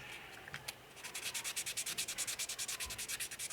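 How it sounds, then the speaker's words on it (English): A clear-coated figure sculpture, a quarter-scale Spider-Man, gets light sanding: rapid, steady rhythmic strokes of abrasive rubbing, close and even, with no talking. "So we're going to give it a light sanding"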